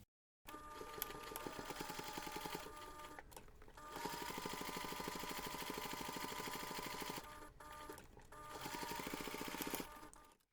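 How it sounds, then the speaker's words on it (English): A sewing machine top stitches around the finished edges of a large fabric jewellery pouch, running in three long steady stretches of rapid needle chatter with brief pauses between, close and alone. "we're going to take this to the machine and we're going to top stitch around the finished edges"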